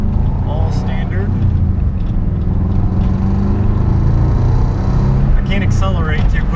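A Subaru Forester drives slowly out of a parking lot, giving a steady loud low engine and road rumble from inside the car, with faint voices coming through near the start and end.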